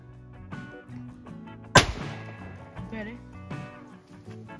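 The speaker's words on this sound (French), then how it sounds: "je viens d'effectuer encore un tir sur une seule palombe toute seule" A single sharp shotgun blast, fired at a lone wood pigeon during a hunt, cracks out close and loud with a brief echo, and a voice can be heard talking around it.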